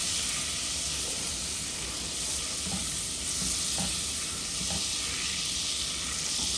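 Butter melts in a hot pan over medium heat for a roux, hissing in a steady, close sizzle with a few soft scrapes of stirring.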